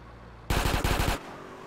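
Automatic gunfire from the video game GTA San Andreas rattles out in a short burst of about six rapid shots, loud and close, ending abruptly.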